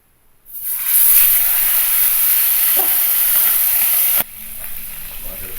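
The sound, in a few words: fish frying in hot oil in a pan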